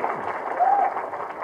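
A political rally crowd for Minister KTR bursts into steady, dense applause, a continuous wash of clapping heard at moderate distance without any voices over it.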